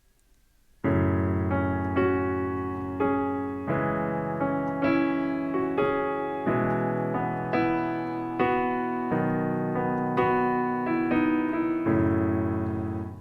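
Slow solo piano accompaniment with chords for the B section of a song, each chord struck and left ringing in a steady, unhurried rhythm, close and clear with no voices.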